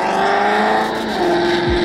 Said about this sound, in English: Mustang, they always have some good exhaust.